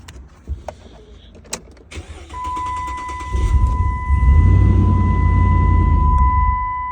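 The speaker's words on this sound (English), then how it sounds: "it started up for a couple seconds" A car with a fuel-related fault cranks, catches and runs for a few seconds, its engine rumbling up loudly with a whining tone before fading out, heard close.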